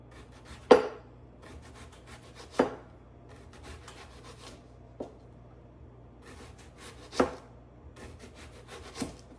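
A knife slices through a large red pepper on a cutting board. It makes a handful of spaced, crisp chopping thuds with quiet gaps between them, close and clear.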